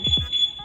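A Yamaha two-way motorcycle alarm fitted to an Nmax v2 gives a thin, high, steady beep as its remote lock button is pressed. A nearby voice talks over it.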